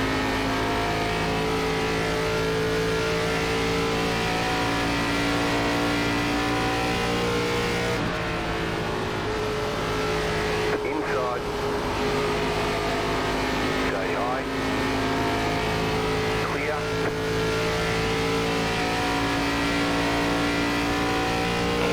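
Race car engine in an iRacing NASCAR ARCA Series race at Texas drones steadily at high revs, a loud continuous whine with small pitch shifts and brief dips as the car lifts, running throughout.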